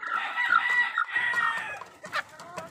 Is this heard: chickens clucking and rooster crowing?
yes